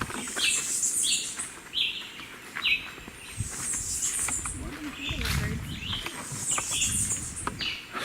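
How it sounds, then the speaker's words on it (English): Birds singing on the island of St. Lucia, bright repeated chirps and short whistled phrases coming again and again from moderately close, over a soft outdoor background. "So on island we've got 150 varieties of birds."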